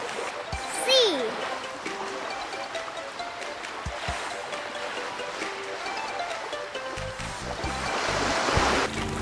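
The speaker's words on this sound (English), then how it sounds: "Sea." Surf rolls and splashes steadily at moderate loudness, a broad watery hiss with occasional thumps and a brief whistling tone early on, swelling slightly toward the end; a voice talks faintly over the waves.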